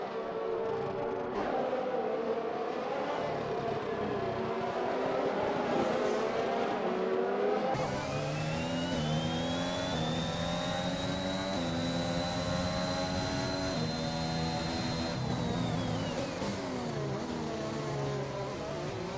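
Race cars in a sim racing game, a Red Bull chasing an Aston Martin, howl through high-revving engine notes that rise and fall under braking and acceleration, steady and fairly close throughout.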